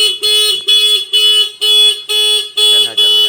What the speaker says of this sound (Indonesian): 5 detik alarm berbunyi